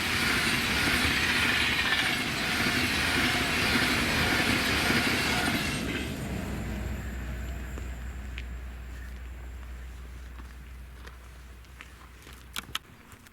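An Avanti West Coast Class 390 electric train, unit 390130 on the Glasgow Central to London Euston service, passes close by outdoors with a loud broad rush that fades after about six seconds into a low rumble and distant rail noise.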